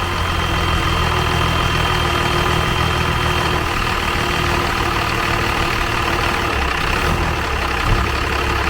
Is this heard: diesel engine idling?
yes